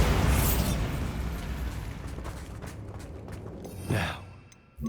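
A Bombarda blasting spell from Hogwarts Legacy bursts with a loud, broad explosive roar that fades over several seconds, followed by a swelling whoosh near the end.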